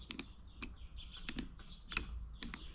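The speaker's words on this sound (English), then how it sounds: "Oh, that little click is horrible." Rear bevel drive of a Velocette LE Mk2 with its spline skipping: a series of crisp, dry clicks at an uneven pace, close and fairly quiet, with no talking.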